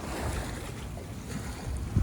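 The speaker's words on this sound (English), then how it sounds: "There's a constant noise of this surf breaking on the beaches across the way there." A steady, distant roar of surf breaking on beaches across the water off southern Tasmania, mixed with wind buffeting the microphone, continuous and fairly faint.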